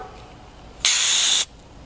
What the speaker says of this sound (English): tighten the CO2 screw just enough that it's not leaking